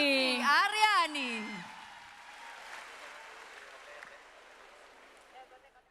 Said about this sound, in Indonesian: Sekali lagi kita beri tepuk tangan yang paling meriah untuk Putri Aryani.